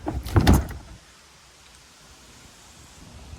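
A short burst of mechanical clunking and rattling rises as the trunk of a 2013 Ford Mustang GT/CS is opened, then gives way to a quiet, steady hiss of background air.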